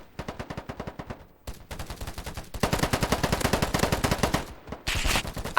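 Rapid automatic gunfire from a red-dot-sighted weapon in a free-to-play shooter game, bursts of sharp close shots with brief pauses between strings, loud and unaccompanied by talk.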